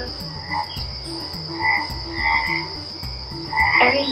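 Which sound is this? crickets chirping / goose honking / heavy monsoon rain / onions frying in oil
crickets chirping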